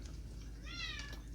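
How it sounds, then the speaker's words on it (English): A house cat gives a single clear, drawn-out meow with a rising then falling pitch. The meow is faint against a quiet indoor background. "Meow. There's my kitty."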